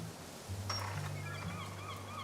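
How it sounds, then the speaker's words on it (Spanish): Seagulls calling in the open, a few thin high cries drifting in at moderate distance over a steady low hum and background noise, with no talk. "¿Escuchan las gaviotas, creo?"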